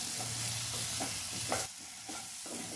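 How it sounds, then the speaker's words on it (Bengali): Cauliflower fries in a pan on low heat, a soft, steady sizzle close by with a few light scraping stirs and no voices. "ফুলকপিটাকে এইভাবে বেশ সুন্দর করে ভাজা ভাজা করে নিতে হবে"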